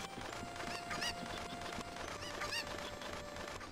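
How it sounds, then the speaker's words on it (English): Cucco chickens cluck in short bursts in Zelda: Ocarina of Time, with a few sharp bird calls popping over busy game music and ambient sound. "Alright, now use this chicken to get the other chickens."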